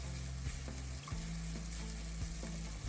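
Yakisoba noodles fry on a hot grill, a steady sizzle running throughout with a few soft clicks and taps of a utensil, close and moderately loud.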